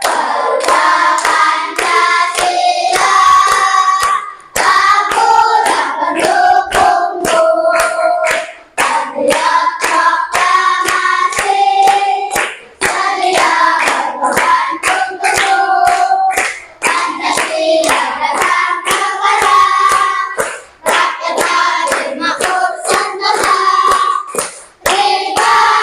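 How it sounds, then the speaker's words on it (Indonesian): A class of students claps in rhythm while singing the Garuda Pancasila song together, steady loud hand claps under the group singing with brief pauses between phrases. "coba kamu bersama-sama menyanyikan lagu Garuda Pancasila. 1, 2, sambil tepuk tangan."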